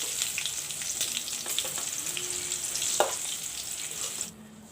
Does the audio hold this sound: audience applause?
no